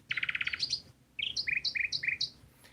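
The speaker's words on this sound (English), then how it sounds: "There's some more birds chirping over here." Bird chirps used as a sample in a music production, bright repeated tweets in quick rhythmic runs, loud and close with a faint low musical bed underneath and no talking.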